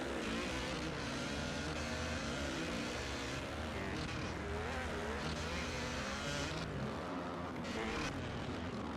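Motocross bike engine in MX vs ATV Legends, a continuous loud buzzing roar that fills the whole stretch with small shifts in pitch from revving, heard alone without talk.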